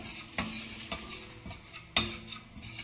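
Mustard seeds sputtering in a small hot pan as they roast, with a few sharp pops and crackles over a soft sizzle and occasional scrapes of stirring, nearby and fairly quiet.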